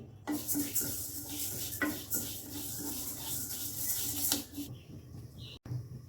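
Small local mung dal is dry-fried in a pan for khichuri, a continuous close hiss and rustle of lentils being stirred and scraped, fading near the end.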